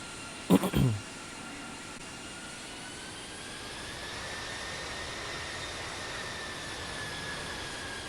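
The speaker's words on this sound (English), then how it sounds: "Today we're flying the Thomas Cook Airbus A321." A Thomas Cook Airbus A321 jet airliner cruising in the Infinite Flight game, a steady continuous engine drone with a faint whine, opening with a brief sharp burst before settling into an even, unbroken roar.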